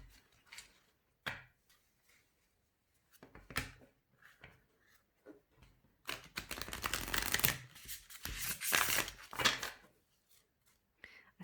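Tarot cards from a new Wild Unknown Animal Spirit deck are shuffled in short, crisp bursts of riffling and flicking, close by, growing into a longer, louder riffle near the end.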